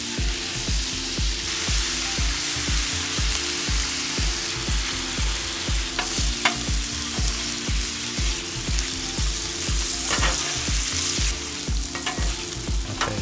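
Broccoli sizzles loudly on a hot Blackstone griddle alongside steak, a steady dense hiss with a rhythmic low thumping beneath it and a few brief clinks of a utensil scraping the flat top.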